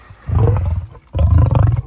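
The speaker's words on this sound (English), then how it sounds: "You gotta love the sounds of a big cat" Two deep, rumbling roars from a male African lion, loud and close, each lasting most of a second with a short pause between them.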